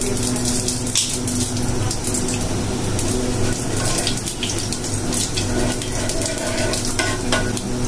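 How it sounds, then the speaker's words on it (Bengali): Nigella seeds and spices sizzle in hot oil in a home kitchen pan, a steady, dense frying hiss that runs loud and continuous, with occasional clinks of stirring. "কয়েকটা কালি জিরা আর রাঁধুনি সস নিচ্ছি, তেলে দিয়ে দেবো।"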